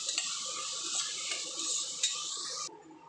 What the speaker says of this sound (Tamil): புதினா இலை புதினாவும் சேர்த்து இதோட வதக்கிக்குவோம்